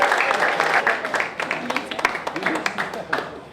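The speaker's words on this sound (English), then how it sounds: "give yourselves a round of applause" Crowd applause at a charity fundraiser event, dense steady clapping from many hands, fairly loud and close, thinning slightly toward the end.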